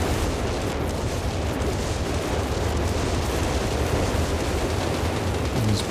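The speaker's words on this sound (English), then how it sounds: "Artillery strike underway." An artillery strike in Company of Heroes 3 produces a steady, dense rumble of explosions and booming impacts that fills the whole stretch without a break.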